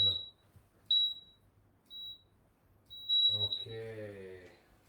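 An exercise timer gives a series of short, high electronic beeps at irregular intervals, with a longer one near the end that runs into a person speaking nearby.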